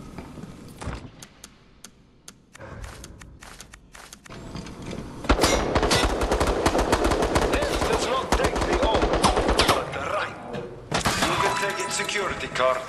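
Gunfire in the Resident Evil Resistance video game: scattered shots and breaking impacts at first, then a long, loud, dense burst of rapid automatic fire with a brief pause before it resumes.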